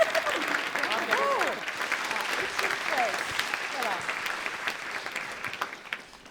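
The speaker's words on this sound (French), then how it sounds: "Messieurs, on peut encore les applaudir, s'il vous plaît." An audience at a literary prize ceremony applauds steadily for several seconds, dense clapping that gradually thins, with voices calling out over it.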